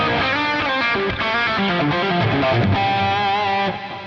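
Les Paul electric guitar played with a screaming high-gain distorted tone, a fast run of saturated notes and bends, loud and sustained before fading at the end.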